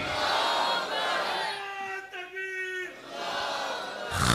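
A large crowd at a religious gathering chants Allahu Akbar in response to Nara-e-Takbeer, rising into one long, drawn-out collective shout amid general crowd noise.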